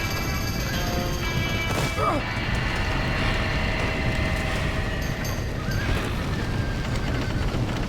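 A busy Red Dead Redemption soundscape with a horse neighing and hooves clattering amid crashing noises and a steady dense background; voices are mixed in.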